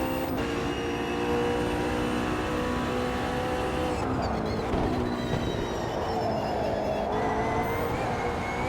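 GT3 race car engine on a hot lap in a racing simulator, a steady loud droning whine with layered harmonics that drops in pitch around a gear change midway and again later, continuous with no talk.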